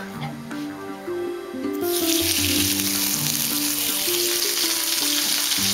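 Stuffed pork loin frying in a little oil, a loud bright sizzle that starts abruptly and holds steady over faint background music.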